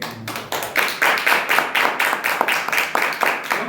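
A church congregation claps hands together in praise at a steady, even beat of about four claps per second, loud and reverberant with voices faintly underneath.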